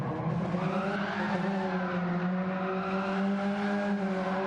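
A GT1 race car spins donuts on the Deep Forest track in a racing game, its engine droning steadily under a continuous, sustained tyre squeal that holds close and loud throughout.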